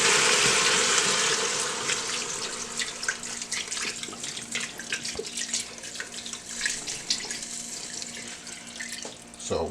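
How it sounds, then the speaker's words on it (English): Beef broth pours into a power pressure cooker while an oxtail stew is being made, a steady close liquid splash and gurgle that starts strong and settles into a softer, uneven trickle. "Then I'm going to take this beef broth,"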